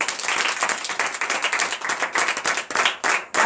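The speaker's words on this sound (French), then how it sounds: "Donnez de vives acclamations à l'Éternel." Church congregation at a night deliverance service clapping and cheering, a dense burst of many hands with sharp individual claps standing out, loud and lively, tailing off briefly near the end.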